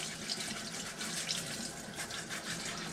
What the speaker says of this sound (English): I should probably turn the water down a little bit